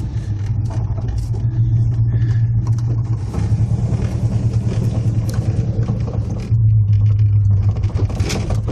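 A 1979 Chevy El Camino street-performance engine idles in gear at about 1100 RPM, its deep, steady rumble loud and close, rising into a heavier throb around the middle and again near the end.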